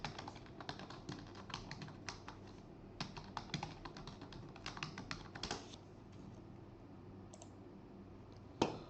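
Keys on a computer keyboard are tapped in quick irregular bursts while a password is entered, close and quiet, followed by a pause and a final sharp keystroke.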